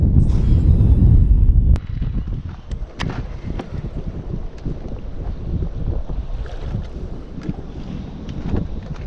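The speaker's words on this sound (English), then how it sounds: "This wind could be a little nicer to us" Wind blows over a lake during fishing from a boat. Heavy gusts buffet the microphone at first, then turn into a steady rushing hiss mixed with small knocks and water sounds, and no one speaks.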